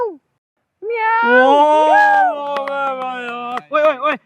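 A Hindi-speaking man imitates a cat with his voice, giving a long drawn-out meow followed by a short second meow, close and clear against silence.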